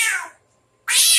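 A person imitates an angry cat, giving two sharp, hissing meow-like cries separated by a brief silence, loud and close, with no other talk.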